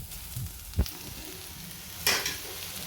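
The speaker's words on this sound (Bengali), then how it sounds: "আলু ভাজা করছি পরোটা দিয়ে খাওয়ার জন্য" Potatoes fry in a pan with dried chillies and black cumin, giving a soft, continuous sizzle broken by two distinct knocks of a spoon stirring.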